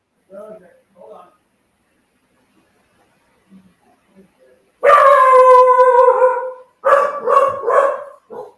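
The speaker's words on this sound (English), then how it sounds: "I guess Sam's being mauled by a dog." A dog barks and howls loudly at close range in a sustained, drawn-out burst, followed by several sharp repeated barks, after a few faint, quiet sounds.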